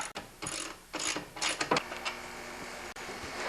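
A wrench or ratchet works on bolts holding an MTD snowblower wheel, with close metallic clicking and ratcheting bursts followed by a scraping sound, and no talking.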